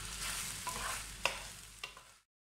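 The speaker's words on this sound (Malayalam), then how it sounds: "നമുക്ക് റൈസ് ഇതുപോലെ നന്നായിട്ടൊന്ന് ഇളക്കി വെള്ളം പോണ വരെ ഒന്ന് നന്നായിട്ടൊന്ന് ഇളക്കിയെടുക്കാം." Soaked rice for chicken dum biryani is stirred in a pot: a steady, close scraping and soft sizzling, with a couple of sharper scrapes of the spoon against the pot and no voices.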